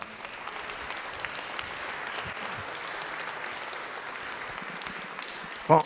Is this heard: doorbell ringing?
no